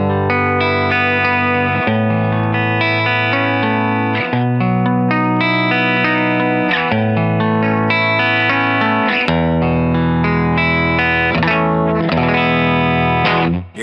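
A Fender Squier Mustang electric guitar rings out through distortion and chorus effects, sustained chords and melodic notes played continuously at steady volume with a few quick chord changes, loud and without talk.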